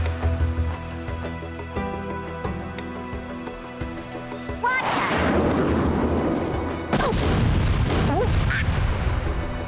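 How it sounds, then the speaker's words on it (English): Airstrike explosions in the video game Worms Reloaded burst in loud, heavy booms that roll into a sustained rumbling roar, with a second blast hitting hard partway through. "Let's see, can we call an airstrike on him?"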